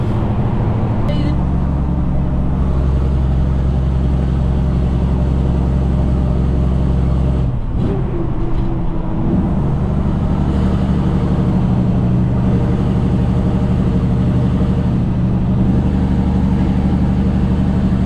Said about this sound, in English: Turn these lights back off and we'll leave the engine fan running.